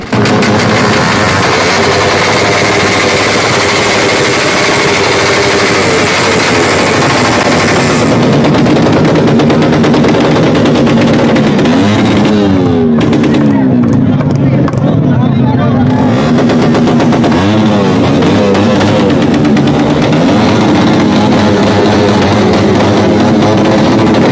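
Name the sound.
motorcycles revving loud exhausts at motor show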